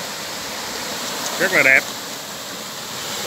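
Steady broadband rush of the Suối Quýt stream flowing on a farm near Long Thành airport, continuous and fairly close, with a short spoken phrase briefly over it midway.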